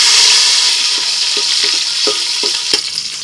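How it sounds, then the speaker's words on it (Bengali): Cashews and raisins fry in white oil in a cooking pot, a steady close hiss broken by scattered clinks and scrapes of stirring. "এবার একটু তেলের মধ্যে ভেজে নেব।"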